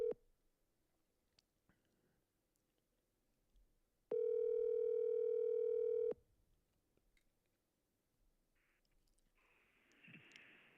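Telephone call tones: a single steady dial or ringback tone holds for about two seconds mid-clip, with faint clicks around it and a burst of noise near the end.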